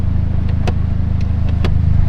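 A Honda DC5 Integra Type R with a stiff clutch drives along, heard as a loud, steady engine drone with a few faint ticks on top and no talking.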